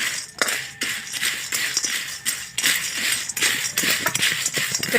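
Dry sev bhel ingredients are stirred in a bowl with a spoon, giving repeated clinking scrapes and rustling taps, close and fairly loud, with no one talking.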